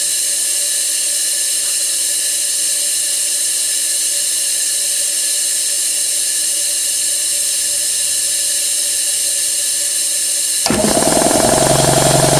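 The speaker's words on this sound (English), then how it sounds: "I'm going to crack this valve, and I'm going to release some air" An air compressor runs with a steady tonal mechanical drone until its valve is cracked open, releasing a sudden loud broadband hiss of escaping air near the end.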